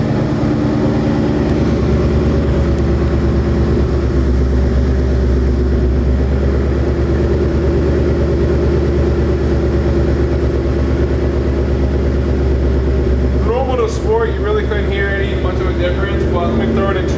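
2018-2021 Ford Mustang GT exhaust at high idle in normal mode while still warming up, a steady loud low rumble held throughout, with a brief blip near the end.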